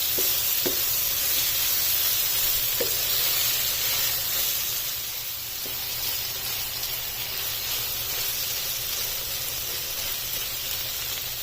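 Mutton and mixed vegetables frying in a pan for jalfrezi give off a steady hiss of sizzling and steam, with a few soft clicks of stirring early on and no talk.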